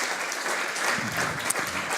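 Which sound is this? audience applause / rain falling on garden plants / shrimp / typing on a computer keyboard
audience applause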